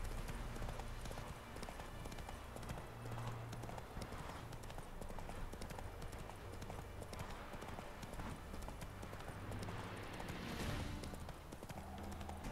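Hooves of the horse Roach clip-clop steadily at a gallop in the video game The Witcher 3: Wild Hunt, a continuous rhythmic pounding over game music and ambience, with faint talk now and then.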